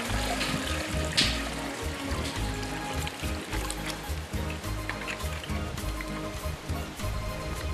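Water is poured steadily into a well's suction pipe to prime it, a continuous splashing, gurgling flow with a few louder sloshes, heard up close without talk.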